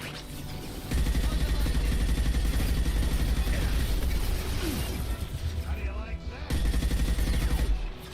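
Rapid gunfire from a third-person shooter video game with biotic powers, dense automatic bursts and mechanical clatter played loud and continuous with music underneath, and a narrating voice over it.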